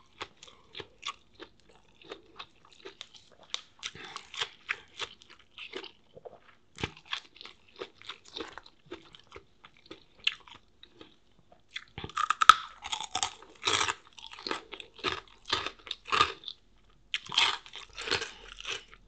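Crunchy bites and chewing of a Thai papaya salad served with pork rinds, crisp vegetables and rice noodles, heard as close, repeated crackly crunches that grow louder and denser toward the end, with no talking.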